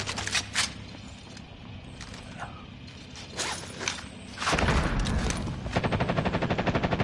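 Video game gunfire crackles in rapid bursts, close and loud, with mechanical clanks in between and a sustained automatic burst rattling toward the end.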